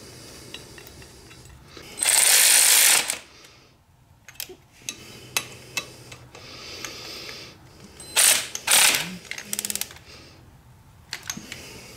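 Ratchet working on the bracket bolts at the lower transmission cover of a Harley-Davidson Touring motorcycle: two loud bursts of rapid clicking, one long and one shorter, with scattered single metallic clicks and taps between them, close up.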